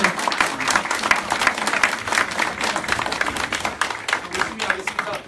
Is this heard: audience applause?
yes